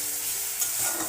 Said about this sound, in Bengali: শুকনো লঙ্কার গুঁড়ো দিয়ে দিয়েছি, ওটা একটু ভেজে নিতে হবে।